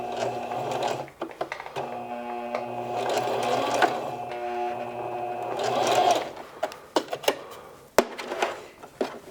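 A sewing machine back tacks across denim back pockets, running steadily forward and reverse with a close mechanical whir, then breaking into short bursts and clicks toward the end.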